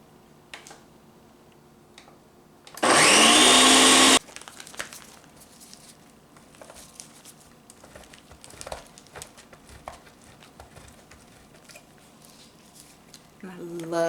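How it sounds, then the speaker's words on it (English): A kitchen blender whirs briefly and loudly, blending half an onion with fresh tomatoes for lasagna sauce, a single burst of little more than a second among quiet handling clicks and rustles. "I put like half of an onion, some fresh tomatoes in here, and going to blend that up"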